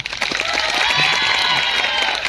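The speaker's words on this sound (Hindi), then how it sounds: "अगर अच्छा लगा हो तो आप तालियां बजा सकते हो।" An audience at a skill development talk claps together in a sustained burst of applause that fills the room for about two seconds.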